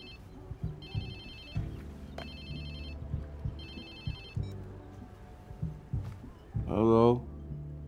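A cell phone ringtone in the Watch Dogs 2 video game, a repeating electronic ring in three bursts over low ambient game sound, followed by a short voice.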